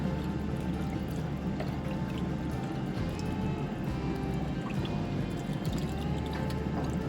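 Chicken stock poured into rice for Hainanese chicken rice gives a soft, steady liquid trickle lasting several seconds, faint and close with no talking.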